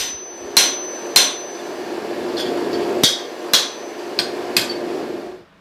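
Steel hammer blows drive a heated steel guard onto the tang of a forged Viking sword, about seven sharp ringing strikes at uneven intervals over a low steady hum, close and loud.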